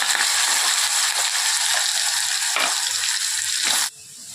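Potatoes fry in hot oil with cumin seeds and bay leaves, giving a loud, dense sizzle broken by a few scraping stirs before the sound drops off sharply near the end.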